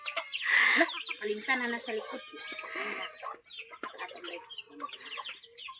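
Backyard chickens cluck and chatter nearby in a steady stream of short calls, while people talk over them throughout.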